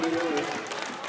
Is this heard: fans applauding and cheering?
yes